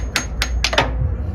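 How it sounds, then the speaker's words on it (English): A hammer striking a part from below during a transmission removal on a turbo hatchback, several sharp metallic knocks in an irregular rhythm, close and loud over a low background rumble. "You just hammer it from the bottom and it should come out."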